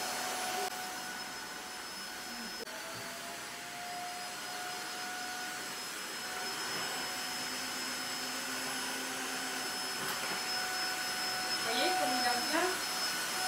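A Tineco iFloor 3 wet-dry floor cleaner washes a floor with a steady motor whine and airy suction hum, holding loud and even throughout, with faint speech underneath.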